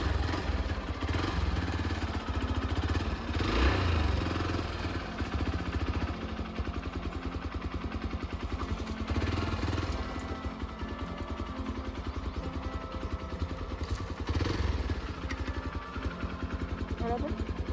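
An adventure motorcycle engine roars and revs steadily throughout, loud and close, with rough clattering undertones and a few surges in intensity.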